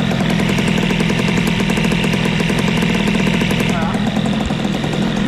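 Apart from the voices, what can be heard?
Airsal 70cc moped engine running and popping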